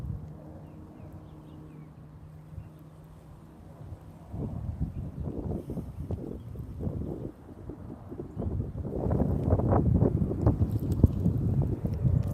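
Wind blowing outdoors during a fishing outing, a broad rumbling buffet that strengthens midway and grows louder toward the end, with gusty low roaring and no talk.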